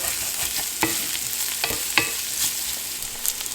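Onion stir-fries in oil for Indo-Chinese fried rice, a bright continuous sizzle punctuated by several sharp spatula scrapes and clicks against the pan, fairly close and moderately loud.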